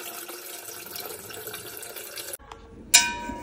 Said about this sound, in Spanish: voy a llenar mi termo por segunda vez